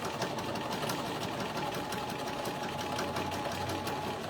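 A sewing machine runs steadily, its needle tapping in a fast, even rhythm as it stitches a zippered bag, quiet and close with no talking.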